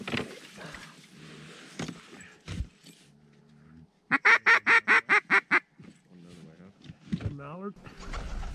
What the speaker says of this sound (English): Mallard. Oh, I just heard it.